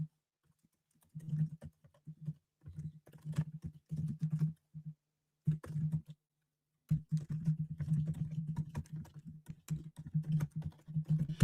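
Someone types on a computer keyboard in bursts of rapid soft key taps with short pauses between runs, close and fairly quiet throughout.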